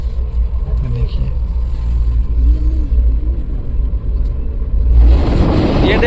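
Inside the Garib Rath Express, running at 100-120 km/h on the Anand Vihar to Saharsa route: a loud, steady low rumble with a brief swell of broader noise near the end.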